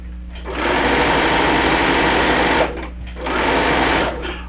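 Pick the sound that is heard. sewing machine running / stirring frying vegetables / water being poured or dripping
sewing machine running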